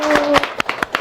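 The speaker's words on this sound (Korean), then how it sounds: "우리 다시 한번 이영렬 회장님께 큰 박수 한번 보내주시죠" At a Korean diaspora forum, a small group gives Chairman Lee Young-ryeol a short round of clapping, a handful of distinct, uneven hand claps following a voice that trails off.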